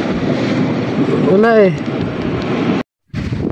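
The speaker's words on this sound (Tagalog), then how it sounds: "Sobrang lakas ang hangin dito sa Fortune Island." Strong sea wind on Fortune Island in Nasugbu, Batangas roars as loud, steady rushing buffeting against the microphone, with a brief voice rising over it midway and a short dropout near the end.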